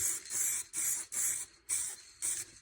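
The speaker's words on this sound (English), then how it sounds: "A little bit of spray off just to test it, just get it through the nozzle" Halfords spray paint can giving short test bursts through the nozzle before light coats on plastic: five sharp hissing sprays in a steady on-off rhythm, close and clear with brief silences between.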